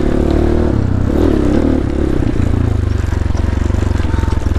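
A GPX Moto FSE 250 dirt bike engine runs rough and uneven on a singletrack trail, a close, loud chugging putter with a stumbling rhythm that threatens to stall before steadying into a rapid pulsing idle.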